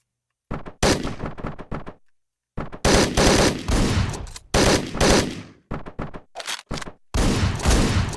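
An AK rifle in a video game fires in bursts of rapid, loud, close shots, with short silent gaps between volleys, and no talking is heard.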